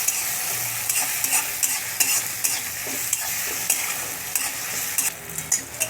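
Thick-cut tomatoes fry on high heat in a kadhai, giving a steady close hiss and sizzle with irregular scraping clicks of a spatula stirring throughout, and no voices.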